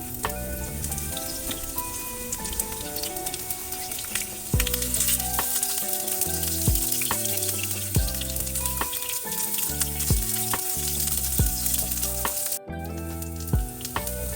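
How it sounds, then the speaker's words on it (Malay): Steady sizzling of onions frying in hot oil, continuous and fairly loud, with tuneful background music playing throughout. "Goreng-goreng bawang holland"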